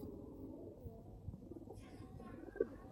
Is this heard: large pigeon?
yes